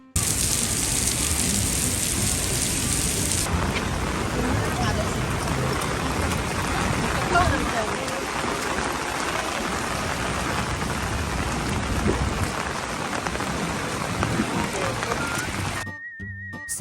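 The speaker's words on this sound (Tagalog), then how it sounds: "ang lakas talaga ng ulan" Heavy rain pouring outside in Osaka, a dense continuous roar of drops on surfaces filling the whole stretch, loud and close, with a voice speaking over it.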